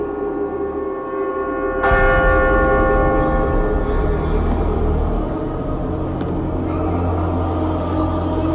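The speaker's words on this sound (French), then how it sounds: "quand la cloche sonnera" A church bell in the video game Assassin's Creed Lineage strikes once, loud and close, and its ringing tones hang and slowly fade over a low, steady rumble.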